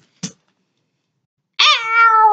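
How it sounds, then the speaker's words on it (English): A cartoon cat in a cat fight gives a short chirp and then a loud, drawn-out meow, close and clear against silence. "Sister cat fights."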